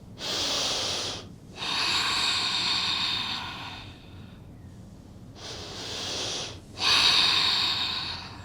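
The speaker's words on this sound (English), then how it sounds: "Inhaling through the nose. We will exhale through the nose as well." Slow, steady nasal breathing during a yoga hip-mobility session, two long airy inhales and exhales through the nose with a short pause between, close and fairly loud, no talking.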